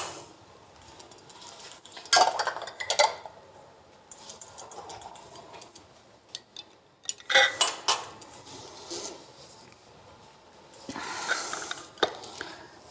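A glass jar of plum compote being closed with its lid, giving a few close metallic and glassy clinks and scrapes in short bursts, with quieter handling noise between them and no talking.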